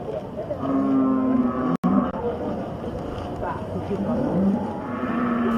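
A sacrificial cow weighing up to 1.1 tons lows in a few long, drawn-out moos at a Jakarta slaughterhouse, half-buried under a news narrator's speech and crowd background.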